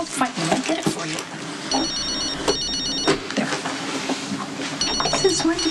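Telephone bell ringing in bursts indoors, with repeated ring tones woven through ongoing conversation and background noise.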